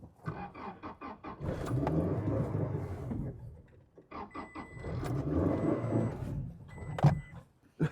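A Toyota Tacoma 2.7 with a lean-running fault cranks with rapid rhythmic pulses, briefly catches into a rough rumble and dies, then repeats the same crank-and-stall cycle a second time, close and loud.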